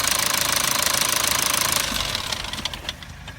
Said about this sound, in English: The car's running beautiful, it's not dealing with any exhaust gases